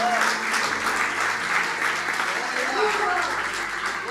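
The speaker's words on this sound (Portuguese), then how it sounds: "Aplaude ao Senhor mesmo." Congregation clapping for the Lord during a Portuguese-language church worship service, a steady, moderately loud wash of hands running throughout with voices audible beneath it.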